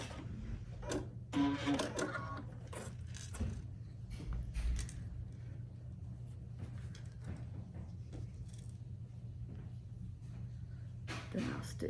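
A sewing machine stitches quilt block pieces together, its needle whirring in short bursts with pauses between, fairly quiet and close, while a person speaks intermittently nearby.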